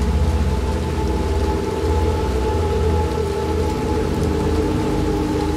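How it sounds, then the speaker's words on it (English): Steady rain streaming down building walls in the video game Little Nightmares 2, a constant close wash of falling water with low rumbling underneath, heard alone without talk. "I love the little detail, the rain going down the walls here."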